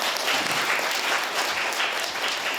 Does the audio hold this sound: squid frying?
no